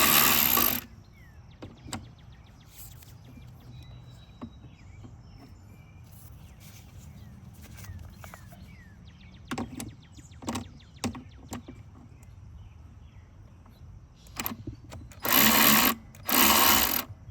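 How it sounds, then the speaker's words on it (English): Ratchet with an 8mm socket backing out intake manifold bolts on a 2007 Ford Taurus, heard as short scattered clicking bursts with quiet gaps, then two louder spells near the end. "Using the 8mm, we are going to get these bolts out of her."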